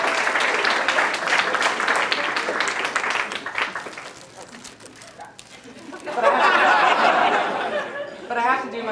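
At an academic society banquet, a crowd claps in a dense patter that thins out. A voice talks briefly in the lull before a second burst of clapping and light laughter rises.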